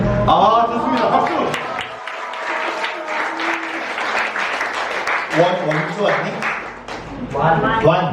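A church youth lecture audience bursts into applause, dense clapping filling the room for several seconds, easing briefly, then swelling again with scattered voices and laughter mixed in.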